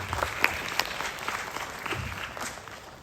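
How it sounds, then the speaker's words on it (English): A conference audience gives a short round of applause, scattered claps with a few sharp nearer ones, fading toward the end. "give a huge round of applause to him"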